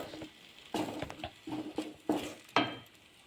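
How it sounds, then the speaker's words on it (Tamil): A spoon scrapes and stirs coconut paste with ghee in a pan, giving several irregular strokes and clinks against the metal with a soft background sizzle, and no one speaks. "அந்த நெய் கூடவே நம்ம அரைச்சி வச்சுருந்த அந்த தேங்காய் பேஸ்ட்டை சேர்த்து நல்லா கைவிடாமல் கிளறணும்"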